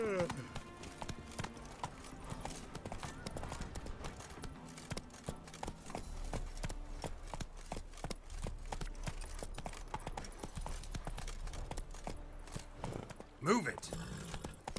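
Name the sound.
horse galloping in video game The Witcher 3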